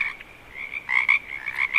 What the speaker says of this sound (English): In early spring, males come down to shallow ponds and ditches, singing to attract females.